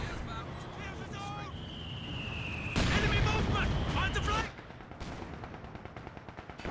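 Mortar shells burst during a Company of Heroes 2 two-versus-two battle, a dense, loud roll of blasts peaking mid-clip among scattered gunfire. A commentator's voice carries on over the combat.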